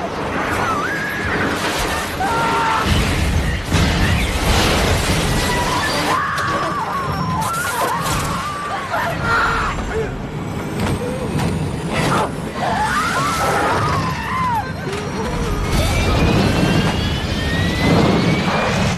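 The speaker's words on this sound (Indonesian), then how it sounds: "Suasana menjadi kacau dan sebuah ledakan besar pun terjadi." Loud roaring aircraft engines mix with chaotic crashing and smashing noises, swelling and fading in several violent waves over a sustained din.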